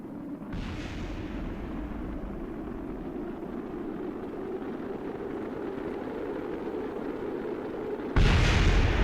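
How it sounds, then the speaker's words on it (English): A rocket in Kerbal Space Program erupts in a deep, rumbling explosion, a sustained low roar that keeps churning, then a second sharp, louder blast hits near the end. "I just want to see this thing explode"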